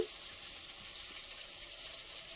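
Chicken frying lightly in a pan for a home-cooked meat and rice dish, a steady close sizzle with soft crackle running evenly throughout, no voices.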